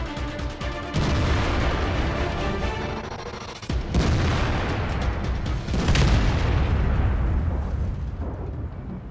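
Tank cannons fire in World of Tanks, heavy booming blasts with sharp onsets, one near the start, another just before four seconds and a third around six, each trailing into a low rumbling battle din.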